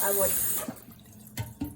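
Tap water runs into a sink to soak bamboo shoots, a short splashing gush that fades, followed by a couple of brief knocks.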